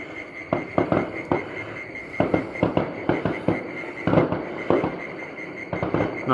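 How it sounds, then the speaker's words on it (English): Australia Day fireworks burst at night from a distance, with irregular clusters of sharp cracks and pops spread across the span over a low background murmur. "Some fireworks on Australia Day, or Australia Night now."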